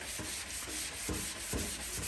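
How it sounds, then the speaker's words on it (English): Epoxy primer on a steel body panel is hand sanded in quick, even back-and-forth rubbing strokes, about two per second, soft and close with no talking. "I reckon we've got enough epoxy on the panel to sand that out."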